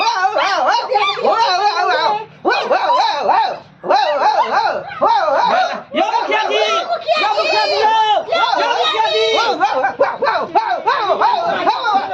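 Voices imitating dogs barking in a Maithili comedy sketch, with rapid repeated yelping barks going almost nonstop, loud and close.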